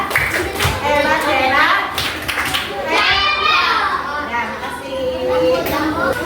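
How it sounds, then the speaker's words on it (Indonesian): A class of primary school children claps in a patterned rhythm for a student group, the bursts of clapping mixed with lively children's chatter and voices throughout. "Tepuk tangan untuk kelompok 2"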